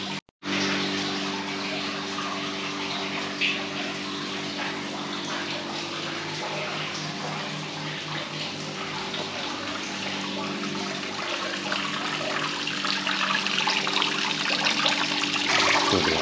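Steady flowing water runs continuously in a hotel courtyard in Córdoba, Spain, a dense, even rush that grows slightly louder toward the end, with no voices.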